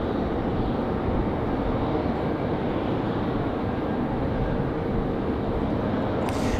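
A Boeing 777 taxis toward the gate at Raleigh-Durham International Airport on a windy day, its engines giving a steady, loud broadband roar that holds level throughout with no talk.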